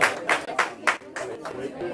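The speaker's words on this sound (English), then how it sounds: "Give it up for Kayla." Brief, sparse applause for Kayla: several distinct claps in a loose rhythm from a small audience, fairly quiet and lasting only a couple of seconds.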